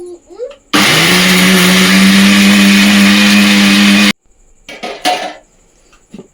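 A kitchen mixer grinder starts abruptly with a loud, steady whirring roar, runs for about three and a half seconds, then cuts off, followed by clattering dishes and a few voices.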